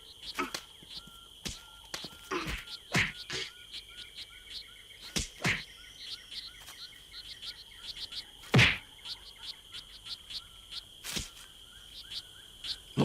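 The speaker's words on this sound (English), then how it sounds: "This little strawberry frog croaks to tell his neighbor to keep off his property" Tiny strawberry frogs calling while two males wrestle over territory, sharp clicking chirps repeating in irregular bursts among insect-like buzzing, fairly close and faint overall.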